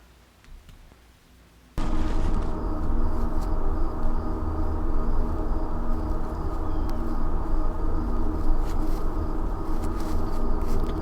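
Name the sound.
foley footsteps on leaves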